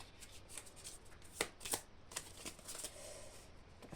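Tarot cards being shuffled at a reading, a run of quick papery riffles and flicks with a couple of sharper snaps in the middle, close and fairly quiet with no talking.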